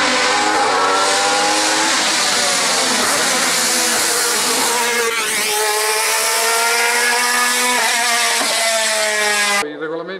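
Alfa Romeo 155 DTM race car from 1996 screaming near its 12,000 rpm redline, a loud, sustained high-pitched wail with rising and falling pitch sweeps through gear changes, cutting off abruptly at the end.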